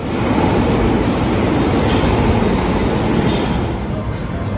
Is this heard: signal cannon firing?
no